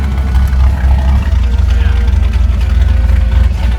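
An Eagle race car with a 409ci V8 runs loud and close, a deep continuous rumbling roar with slight surges, while voices talk over it.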